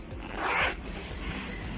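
A slider is zipped along a guitar bag zipper in one close, scratchy run that peaks midway, with quieter rubbing afterward and no talking.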